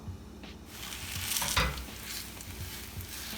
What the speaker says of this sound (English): The oil's just starting to shimmer right now, so I'm gonna put the dough in the pan.